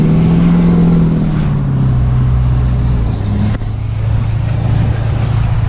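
A loud, steady engine drone with a low rumble continues throughout from a high-mileage Chevrolet Silverado Duramax diesel pickup towing a noisy trailer in the city, with road noise and a brief clunk midway.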